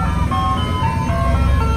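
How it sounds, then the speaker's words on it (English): An ice cream truck pulls up, its looping chime melody playing loud and close over the rumble of the idling engine. "the ice cream truck is here"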